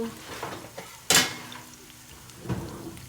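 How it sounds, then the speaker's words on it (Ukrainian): A single metallic clank as a pan is set down on a stovetop, followed a moment later by a softer knock; close by, in a quiet kitchen. "окремо кладемо пательню на картоплю"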